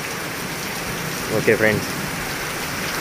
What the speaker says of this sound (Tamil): மழை திடீர்னு பெய்யுதுங்க